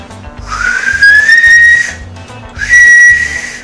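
Two long, shrill hand whistles, each rising slightly then holding a steady high tone, separated by a short pause with faint background noise.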